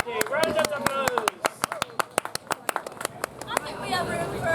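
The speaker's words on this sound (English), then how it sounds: "Round of applause." Improv show audience breaks into applause, a quick burst of claps under lively crowd chatter and voices, fading back into talk toward the end.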